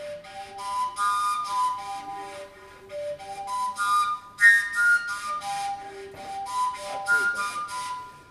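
Overtone flute played through an overtone scale, a series of clear whistly pitched notes stepping up and down in short phrases, close and fairly loud with no talking.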